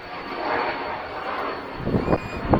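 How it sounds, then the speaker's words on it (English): A propeller airplane flies over a waterfront near a Stabicraft 1850 Fisher boat, giving a steady, moderate broadband drone that swells slightly over a few seconds, with some nearer low rumbles toward the end. "you can't hear because that plane's going by"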